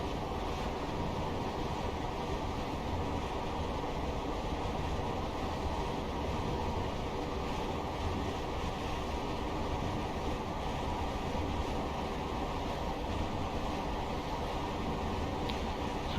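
A Class 158 diesel multiple unit with a Cummins engine runs steadily in the Train Simulator Classic video game on the Leeds to Manchester line. It makes a continuous, even rumble and drone that stays constant throughout, with no talking.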